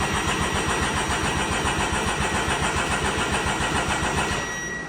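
A turbocharged Can-Am X3 side-by-side, its fuel pump switched on manually, fires up and runs with a loud, steady pulsing engine note close by, easing slightly near the end, with no talk.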